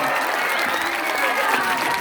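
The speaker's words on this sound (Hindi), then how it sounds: "तालियां तालियां" An audience claps at a stage show during a religious katha gathering, a dense continuous patter of applause from a crowd, close and steady for the whole moment.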